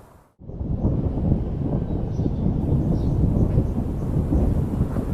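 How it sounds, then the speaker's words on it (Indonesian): Deep thunder rumbles loudly and steadily after a brief quiet opening, a continuous heavy roll with rain-like hiss over it and no talk. "Bunyi gemuruh."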